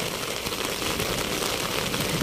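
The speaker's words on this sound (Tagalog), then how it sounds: "Talaga naman pong buga-buga ang ulan." Heavy rain pours down during rice planting, a dense, steady hiss that fills the whole moment with no voices.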